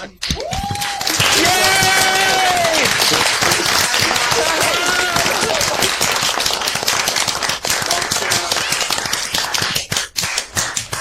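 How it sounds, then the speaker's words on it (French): Videoconference participants with microphones unmuted clap together for a workshop presenter, a dense, steady clatter of many hands through call audio, with voices and cheering tones mixed in across the first half. "Je veux donner une bonne main d'applaudissement pour Sean."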